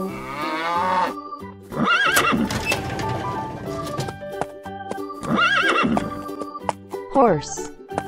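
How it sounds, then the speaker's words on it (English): Loud horse whinnies repeat several times over background music, with a voice speaking briefly and hoof clops mixed in. "Horse."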